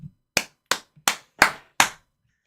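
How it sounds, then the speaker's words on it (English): Hand clapping by one person, five sharp claps spaced about a third of a second apart, close and clear in an otherwise quiet room. "I'm just clapping for myself."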